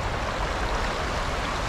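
River water rushes in a steady, broadband wash heard from the middle of the river, continuous and fairly close with no talk.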